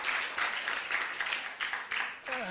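An audience at a public lecture on healthcare costs claps in uneven, pulsing bursts, moderately loud, and a voice comes in at the very end.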